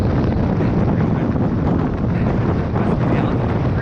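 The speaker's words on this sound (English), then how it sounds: "Not sure the audio is going to work up here. It is so windy." Strong wind batters the microphone at nearly 13,000 feet on a Colorado mountain near Breckenridge, a loud constant roar of buffeting with no letup.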